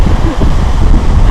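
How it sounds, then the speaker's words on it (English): Steady, loud wind buffeting the microphone at the top of San Marino, a continuous rumbling roar throughout. "A bit windy."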